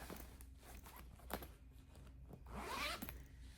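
A fabric zipper on the zippered pocket of a knitted maker's tote bag, zipped in a short, quiet rasping pull near the end amid soft handling rustles. No speech.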